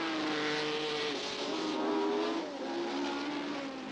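Formula One race cars at the 1967 Canadian Grand Prix roar steadily in a loud, continuous engine drone with shifting pitch as they run at speed, with no talking.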